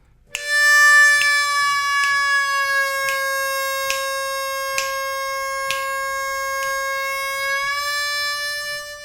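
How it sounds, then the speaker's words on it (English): One long harmonica 4-draw note, slowly bent down, held and then released, played alone with a clear reedy tone and faint breath pulses, no talking. "your first exercise is going to be on a 4-draw, and you're going to slowly bend it down"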